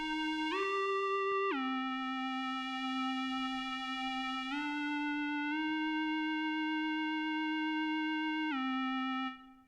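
Notes from a Cherry Audio Novachord software synthesizer preset glide in pitch, a bright harmonic-rich tone with modulation and reverb, sustaining and stepping between several held notes before cutting off.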